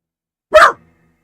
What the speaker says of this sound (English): And that would be my dog.